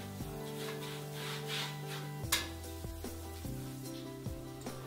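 Paint roller spreading washable wall paint on an interior wall, soft repeated rubbing strokes with a faint wet swish, close and fairly quiet.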